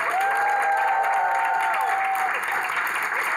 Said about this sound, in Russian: Разве это аплодисмент? Ну, поаплодируйте.